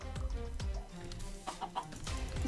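Minecraft chicken clucking in a game, a few short clucks spaced across the moment over a steady low background, close and moderately faint, with no speech.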